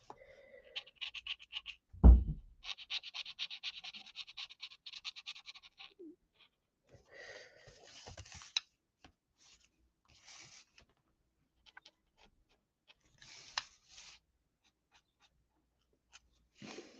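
Pens drawing and layering colour on paper, giving bursts of quick scratchy strokes, dense at first and then sparse with pauses, close and fairly quiet, with a sharp knock early on.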